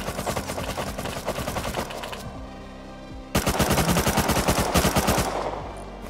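Rapid automatic gunfire from the video game Rust rattles in dense bursts, cuts out briefly, then resumes even louder in a sustained stream of close shots.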